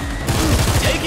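A brief burst of rapid gunfire in the Showgunners game, loud, close shots rattling for about a second over background game sound.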